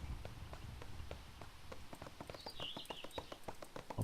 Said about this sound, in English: Slow horse.